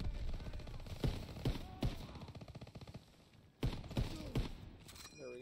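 Machine gun fire in Call of Duty: WWII during a D-Day beach assault, sounding as scattered bursts and single heavy shots spread across the moment, mixed with busy battlefield noise and faint voices.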